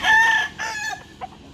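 A single rooster crows nearby, loud and shrill, its call trailing off into a few softer clucks.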